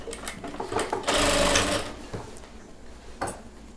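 A sewing machine runs a loud continuous burst of stitching that joins two pieces of a churidar pant, preceded and followed by shorter mechanical clicks and whirs from the machine.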